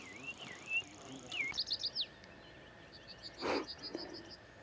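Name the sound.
nightingale singing in a Pyrenean valley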